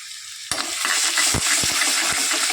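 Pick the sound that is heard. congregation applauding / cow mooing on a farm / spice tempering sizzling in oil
spice tempering sizzling in oil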